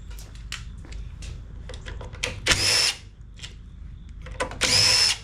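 Short bursts of a power driver backing out three small screws from the backing plate on a Craftsman 21-inch push mower with a Briggs and Stratton 6.75 Quantum engine, two longer whirs among scattered close clicks and handling noise.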